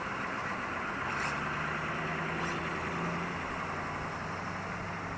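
Truck engine idling and running nearby at a steady, even drone throughout, with no speech over it.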